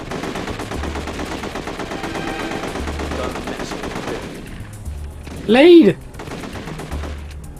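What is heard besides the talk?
gunfire in the video game The Getaway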